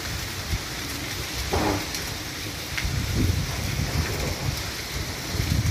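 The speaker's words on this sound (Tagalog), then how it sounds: "Grabe ang ulan." Heavy typhoon rain pours down steadily, a dense hiss of drops on surfaces with occasional low rumbles.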